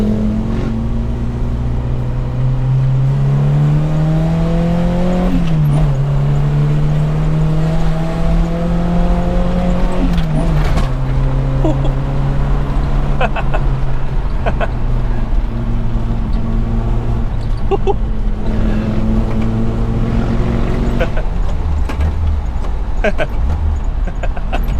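Suzuki Jimny Katana engine pulling hard from second gear, a loud in-cabin drone whose pitch climbs steadily across several gear changes, with speech mixed in over the engine noise.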